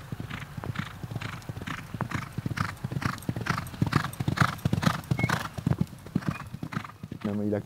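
A three-year-old racehorse at the Deauville race meeting clip-clops in a brisk, regular rhythm, hoofbeats ringing close and clear while someone talks over them.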